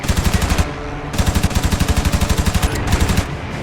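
Aircraft machine guns in the IL-2 Sturmovik Birds of Prey game fire in rapid sustained bursts, a loud close rattle of evenly spaced shots with brief breaks between strings.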